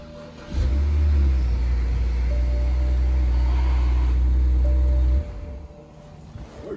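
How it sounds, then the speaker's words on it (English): Engine of a BMW E90 revved to maximum RPM, a loud sustained roar that cuts in suddenly, holds steady for several seconds, then drops back to a lower idle. "We're running it at max RPM."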